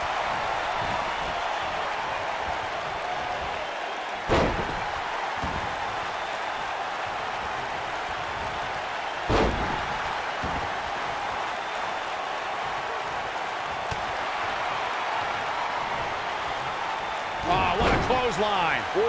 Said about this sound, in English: Oh, what a slam.